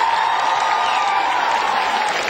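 An audience at a televised stage performance applauds loudly and continuously, a dense wash of clapping with a steady tonal hum of music running underneath.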